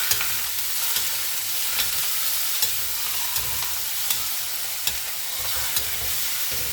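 Squid frying in a pan, a steady bright sizzle with regular sharp pops and clicks from stirring throughout, no voices.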